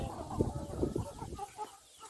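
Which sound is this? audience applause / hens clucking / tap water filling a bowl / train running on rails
hens clucking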